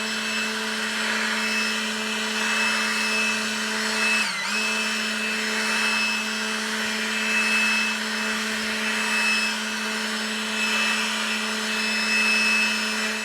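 A Ryobi 40-volt cordless leaf blower runs on turbo speed with a loud, steady high-pitched whine and rushing air, held close for its whole length with only a brief dip in tone.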